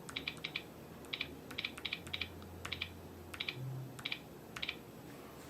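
Stylus taps on a Nintendo DS Lite touchscreen after a bottom screen replacement, heard as quiet, quick clicking taps in short irregular bursts over a faint steady background hum, with no talking.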